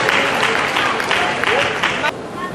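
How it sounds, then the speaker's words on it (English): A university event audience applauds steadily, a dense wash of clapping that carries on throughout and eases slightly toward the end. "A round of applause, please."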